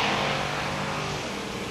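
Drag race cars launch side by side at London Motorsports Park, one a 1980 Fairmont, their engines a loud, steady roar that holds throughout.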